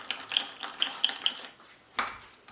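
A utensil stirs and mixes ingredients in a pot while cooking pondu, giving a series of light metallic clinks and scrapes, about seven quiet taps spread unevenly.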